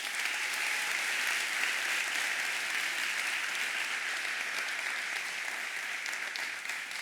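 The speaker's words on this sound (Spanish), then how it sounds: "Y yo creo que tienes que darle un fuerte aplauso a Dios." A church congregation gives loud, sustained applause that holds steady and dense throughout, with no speech over it.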